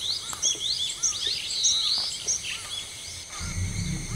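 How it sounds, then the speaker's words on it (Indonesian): Small birds sing along a mountain trekking trail on Gunung Sangar, with faint high chirps and twittering trills over quiet forest ambience, followed by a brief low rumble of movement near the end. "Mulai terdengar jelas kicauan burung yang sangat merdu, seakan mengiringi dalam perjalanan trekking ini"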